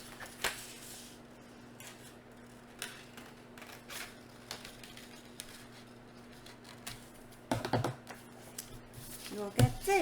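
Scissors cut out a paper capsule outline drawn in pencil, giving faint scattered snips and paper rustles over quiet background hum, with a louder burst of cutting near the end.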